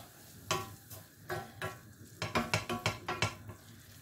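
Vegetable bourek pastries frying in hot oil, with a steady sizzle broken by a run of sharp clicks and pops that come faster toward the end, heard close and at moderate volume.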